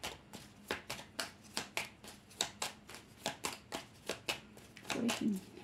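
Tarot cards being shuffled for a reading give a steady run of crisp riffling slaps, about two or three per second, close and fairly loud, with a brief murmur of voice near the end.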